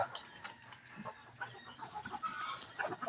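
A laying hen clucking as she is released, a few short close clucks over rustling and faint farmyard background.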